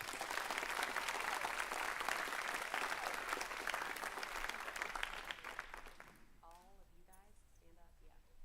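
A crowd at a co-op graduation ceremony applauds the graduating students with steady, dense clapping for about six seconds before it fades and a voice begins speaking over the quieting hall.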